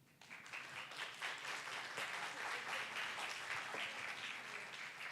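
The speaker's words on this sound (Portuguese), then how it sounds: "Palmas mais calorosas, né?" A crowd applauds steadily at a tribute celebration event for Ziraldo, dense clapping that swells quickly and holds for several seconds at moderate distance, with faint voices mixed in.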